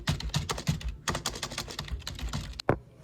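Typing on a cheap $10 membrane office keyboard, close and dry, a fast irregular patter of soft muffled keystrokes with short pauses and one louder key press near the end, no voice.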